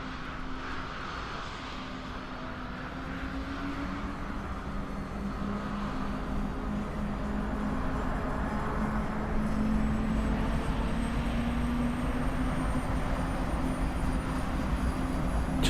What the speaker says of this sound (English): Just hear the whining of a jet engine.